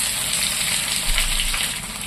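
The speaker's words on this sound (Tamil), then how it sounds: "வெங்காயம் நல்லா எண்ணெயில வதங்கி கலர் மாறணும்" A large onion, sliced lengthwise, fries in oil with a continuous close sizzle and faint stirring underneath, and no voices.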